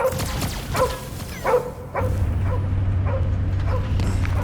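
A dog in the video game Marvel's Guardians of the Galaxy barks repeatedly in short, close yips and bow-wows, joined by a steady low rumble and game noise.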